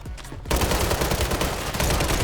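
Rapid automatic gunfire in the Warzone video game erupts after a brief quiet moment and continues as a loud, dense stream of shots to the end.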